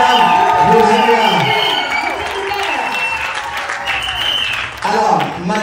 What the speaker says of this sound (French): Madame Virginia Zaou, acclamons très fort pour elle.